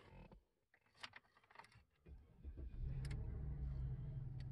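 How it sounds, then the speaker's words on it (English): A Cadillac car engine starts, a starter crank giving way to a steady low idle rumble that holds loud and close through the second half, with faint clicks and movement before it. "first thing we do, start the car."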